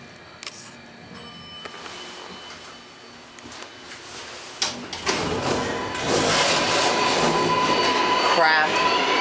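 A New York City subway 6 train at the City Hall station, a low rumble building to a loud, sustained roar with squeal after a quiet stretch of scattered clicks.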